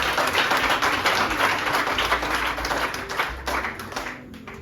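A church congregation claps during a live worship service, loud and close, with dense rapid clapping that gradually thins and fades toward the end.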